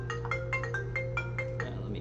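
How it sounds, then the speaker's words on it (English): A mobile phone rings nearby with a rapid melodic ringtone, a quick run of bright repeating notes playing continuously over a low steady hum. "That's my phone."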